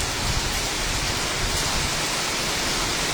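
Heavy rain lashing down with gusty wind, heard from a balcony: a dense, steady, even roar of falling water that stays loud and unbroken throughout, with no voices.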